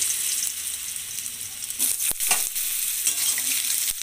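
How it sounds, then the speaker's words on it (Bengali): Potatoes frying in hot oil with black cumin seeds in a home kitchen, a steady broad sizzle throughout with a few stirring scrapes and clatters, close and continuous, no talk. "আলুগুলো একটু লাল লাল করে ভেজে নেব।"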